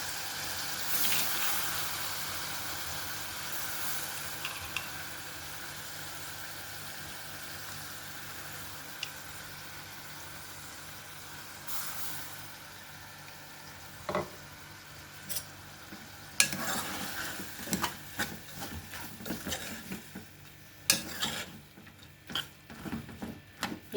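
Toor dal is tipped into a hot pan for tomato pappu, giving a soft sizzle followed by a series of sharp spoon scrapes and knocks as it is stirred, fairly quiet throughout.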